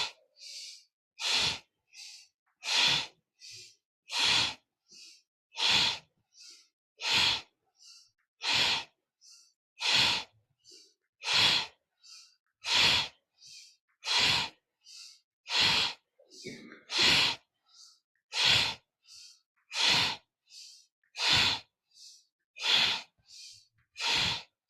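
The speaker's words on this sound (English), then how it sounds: "Inhale." Deep yoga breaths repeat at an even pace of about one every second and a half, each a close, airy rush of air with no talk.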